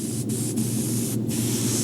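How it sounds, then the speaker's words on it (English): An airbrush sprays paint onto a largemouth bass taxidermy mount, giving a steady, close hiss that breaks off in brief gaps as the trigger is released and pressed again. "And you can hear me moving the airbrush around."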